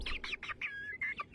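Chickens sound off in a quick run of sharp, high clucks and squawky calls, several bursts in a row with one drawn-out note near the middle, loud and close with no talking.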